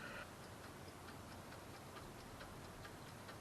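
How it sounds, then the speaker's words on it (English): The dashboard clock of a 1955 Oldsmobile Super 88 ticking, faint regular ticks set against a steady hiss inside the car, with no one speaking. "the clock's working"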